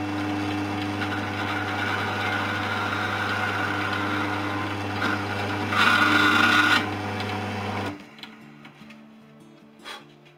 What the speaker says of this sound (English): I'm just going to run the drill through here, through the first hole